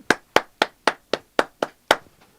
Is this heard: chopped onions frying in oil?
no